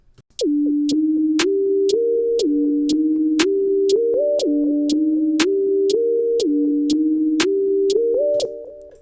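A steady electronic beat: hi-hat ticks on each beat with a sharper snare crack every few beats, all over a looping synth melody.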